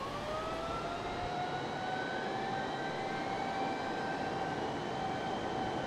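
Jet engine at full throttle in Microsoft Flight Simulator, a steady loud roar with rising whining tones that climb slowly over several seconds, continuous and close, no voices.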